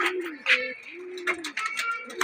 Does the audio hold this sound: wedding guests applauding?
no